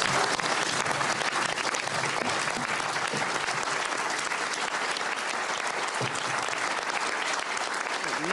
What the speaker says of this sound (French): Marine Le Pen, applaudie par Jordan Bardella et les députés